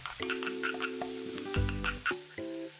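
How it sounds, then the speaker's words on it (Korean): Potatoes, garlic, onion and chili stir-fry in cooking oil over medium heat, a soft sizzle heard alongside light clinks and scrapes from stirring, with a low hum running underneath. "마늘, 양파, 고추를 넣고 양파가 반 정도 익을 때까지 골고루 볶아주세요"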